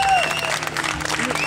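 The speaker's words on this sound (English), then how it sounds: "Round of applause for Andy" Audience at a blues gig during the Ramsbottom Chocolate Festival claps for a band member, a short burst of close applause with a few whoops and a lingering sustained tone beneath.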